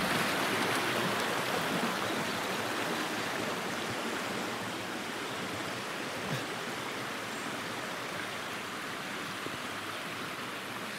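A river flowing beside Exmoor Zoo, a dense continuous rushing wash of water, steady and fairly loud with no voices.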